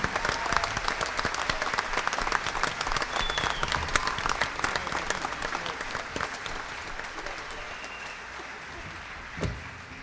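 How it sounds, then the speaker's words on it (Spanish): A concert audience gives a strong round of applause at a popular Salvadoran mass performance. The dense clapping is loud at first and then slowly thins and fades, ending with a brief thump near the close. "Fuerte el aplauso para Guillermo."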